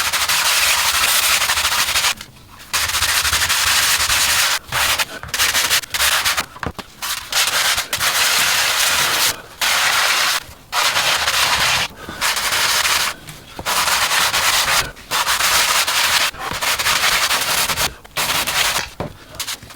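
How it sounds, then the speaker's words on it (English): A balsa wood model aircraft rudder is sanded by hand, loud close rasping strokes in long repeated bursts separated by brief pauses, steady and rhythmic throughout. "So I spent quite a bit of time sanding the rudder."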